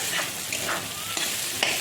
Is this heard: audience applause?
no